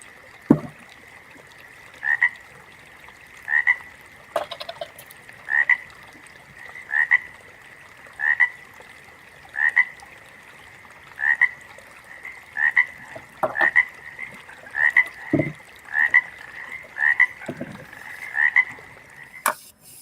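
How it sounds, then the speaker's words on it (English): A frog croaking effect repeats as regular, evenly spaced croaks about every second and a half, loud and close against a quiet background, with a few sharp clicks mixed in. "when I hear the sound of that dab frog"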